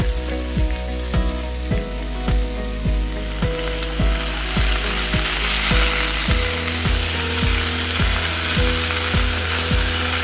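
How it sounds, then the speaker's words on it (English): Wild boar rouladen brown in a hot pan with a loud, continuous close sizzle, punctuated by regular rhythmic knocks and scrapes of the pan or utensil throughout, with no voices. "we're gonna get these suckers and brown them off just a little bit"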